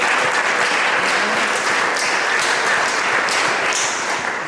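A crowd at a church choir gathering gives a round of applause for the guests: dense, steady clapping that stays loud throughout and eases slightly at the end.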